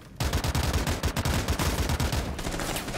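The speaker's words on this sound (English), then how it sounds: "I love this rifle, bruh. You can shoot it as fast as you can tap." Rapid semi-automatic rifle fire in a first-person shooter video game, shots tapped out in a fast, steady, machine-gun-like stream, loud and close, running the whole time with no talk.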